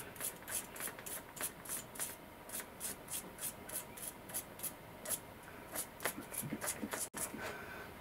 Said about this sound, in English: brush them with a wire brush to take any swarf that's trapped in the wheel from the previous operations